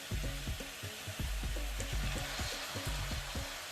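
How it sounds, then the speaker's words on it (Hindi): Chicken pieces stir-fry in a hot pan with a constant loud sizzle, while rhythmic scraping and tapping from stirring repeats throughout, with no voices. "और हमें इसको थोड़ा स्टीर फ्राई करना है जब तक इसका कलर ना चेंज हो जाए"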